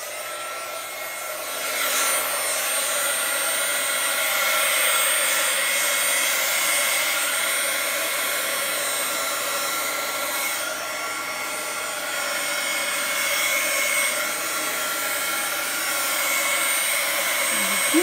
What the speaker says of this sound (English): I'm going to get my heat gun out